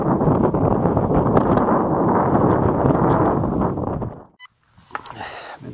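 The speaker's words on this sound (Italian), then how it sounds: "sta vento è proprio forte forte." Strong wind roars steadily across a microphone high on Monte Vettore in the Sibillini mountains, loud and buffeting for about four seconds before dropping out abruptly, followed by a brief quieter gust.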